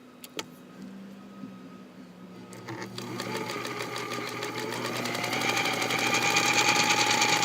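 An all-metal Singer Featherweight sewing machine, fitted with a motor faster than its original vintage one, starts after a few faint clicks and runs with a rapid, steady mechanical chatter that grows louder and speeds up, close by.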